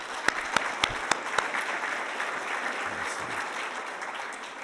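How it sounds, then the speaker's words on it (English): An audience at an ethics awards ceremony gives a steady round of applause for sponsors, with a few sharp, close claps at the start before the clapping settles into a dense, even wash that carries on to the end. "please join me in just one more round of applause for all of our sponsors"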